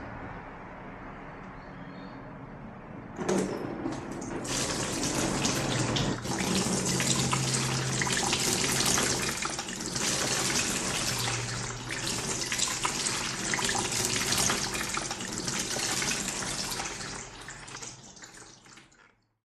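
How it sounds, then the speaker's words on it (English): Cold tap water running continuously over a burn for first-aid cooling, starting abruptly after a quieter lead-in and then a steady, loud splashing rush that holds for about fifteen seconds before cutting off. "cool the burn under cold running water continuously for 20 minutes"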